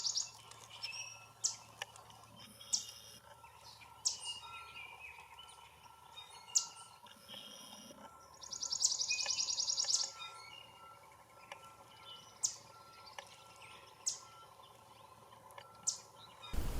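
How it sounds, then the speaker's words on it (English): A yellow warbler sings in a secluded natural area, short high chirpy phrases repeating every second or two at moderate distance, with one longer trilled burst midway, over a quiet background. "But here we have a yellow warbler."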